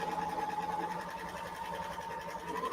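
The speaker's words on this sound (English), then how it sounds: "just keep sewing in a circle" A serger hums in a steady, fast mechanical whir as it sews fabric in a circle for bias tape, close and continuous with a faint voice in the background.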